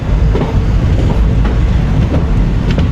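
A train runs past close by beneath a bridge in the rainy season, a loud continuous rumble with rhythmic clickety-clack from the wheels.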